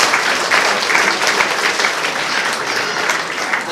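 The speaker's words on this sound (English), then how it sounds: "Can we give it a big round of applause for Rishi's parents for a beautiful speech?" A wedding crowd applauds the parents of the couple after their speech, dense and steady clapping filling the room at a loud level throughout with no talk over it.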